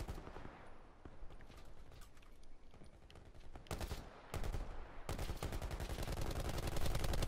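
Gunfire in the video game Call of Duty Modern Warfare, with loud, dense bursts of automatic fire and single shots cracking over one another almost without a break.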